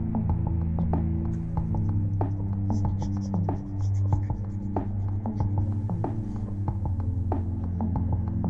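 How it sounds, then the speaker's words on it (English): A bone folder burnishes a paper end sheet down onto a freshly glued book, a steady dry rubbing and scratching with quick repeated strokes, close and even throughout over a low hum. "burnish the end sheet down with a bone folder"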